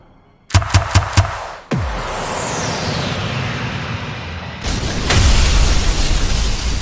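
Explosion sound effects in a dramatized fantasy story set on Mount Merapi: four sharp rapid blasts, then a heavy boom with a long descending whoosh and rumble, followed by another loud rolling eruption-like blast.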